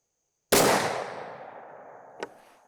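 A single sharp muzzleloader gunshot fires a 270-grain Federal BOR LOCK bullet over Triple Se7en powder. The loud crack decays into a long outdoor echo, and a faint sharp report follows about two seconds later.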